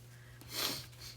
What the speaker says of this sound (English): sorry about the sniffles, folks